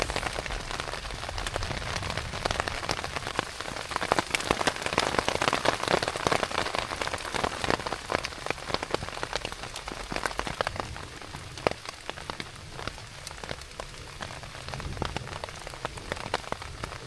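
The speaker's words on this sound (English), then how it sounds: "Let's just enjoy the sound of the rain." Steady rain patters and drums on a taut tarp nearby, a dense crackling hiss of drops with no voices.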